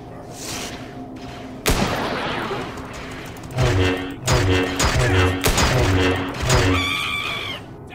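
Enemies fire weapons in the sci-fi video game Starwind, with sharp bursts of gunfire and repeated blasts in quick clusters, loud and close, mixed with game effects.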